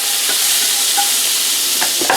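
Loud, dense sizzling of margarine in a hot frying pan at medium heat, steady and close, with a few faint scraping touches.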